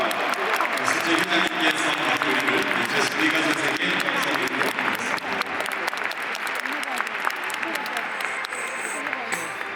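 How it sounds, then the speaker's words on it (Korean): A crowd at an FC Seoul farewell event for Lingard gives sustained, dense applause, loud and continuous throughout, with a voice faintly under it. "다시 한번 큰 박수 주시기 바랍니다."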